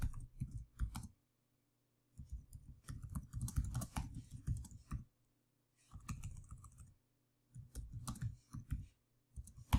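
Fingers type on a computer keyboard, with quiet, rapid clicking in bursts separated by short silent pauses.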